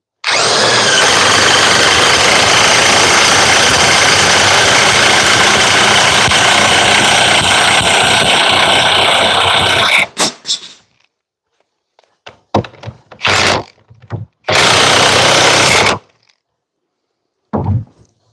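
A DeWalt DCF961 high-torque impact wrench on an 8 Ah battery hammers continuously and loudly for about ten seconds, then stops and is followed by a few short separate bursts.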